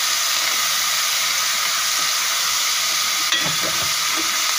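Two small tomatoes sauté in a pan with curry leaves, a loud, steady hissing sizzle that fills the clip, with one brief clink of a utensil near the end.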